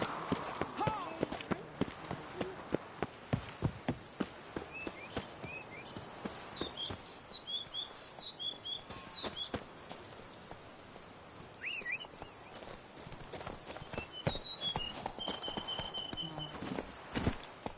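Roach the horse in The Witcher 3 gives steady hoofbeat clip-clops through most of the stretch, with game ambience and bird chirps above and brief bursts of talk between them.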